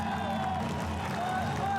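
A crowd cheers at a military parade in northwest India, a steady, continuous roar of many voices with no pauses.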